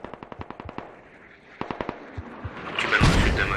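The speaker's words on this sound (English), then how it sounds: "laying out fire with the mortars." Mortar and automatic weapon fire in a multiplayer war video game match: two quick bursts of sharp, evenly spaced shots, followed by a louder, rumbling barrage building toward the end.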